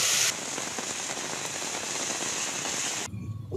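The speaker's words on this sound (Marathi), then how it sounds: "नाशिक शहरात गेल्या अर्धा तासापासून जोरदार पाऊस सुरू झालेला आहे" Heavy rain pours steadily in Nashik city, a dense, loud hiss of drops on hard surfaces that holds unbroken for about three seconds before cutting away to a duller, lower rumble.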